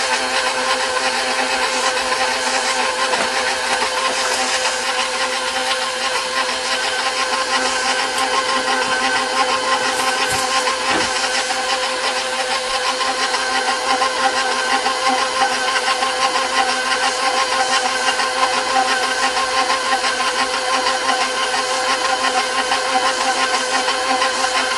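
An electric mixer beats cookie dough at speed 2, a steady loud motor whir with a constant pitch and faint rhythmic churning that runs unbroken for the whole stretch, with no voices.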